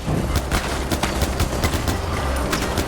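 Loud, rapid bursts of gunfire in the video game Far Cry 4, sharp repeated shots crackling in a fast rhythm across the whole stretch, dense and close with no voice over them.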